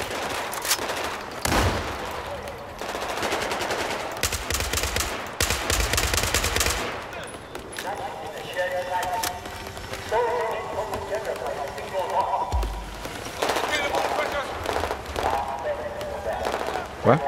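Rapid bursts of automatic rifle and machine gun fire in the Battlefield 4 Shanghai campaign mission, loud and repeated with short pauses, mixed with battle noise and someone talking between the bursts.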